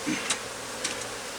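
Aggressive honey bees buzz around an opened hive, a faint steady drone broken by a couple of brief, sharp clicks.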